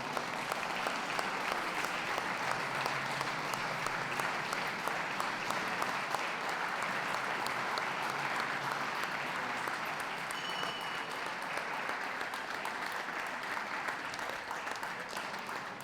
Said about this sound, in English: Please give them a round of applause as they leave the ring